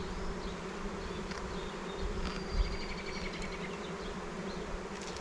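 A honeybee colony in a nuc box, a steady close buzzing drone with individual bees whining past, no voices.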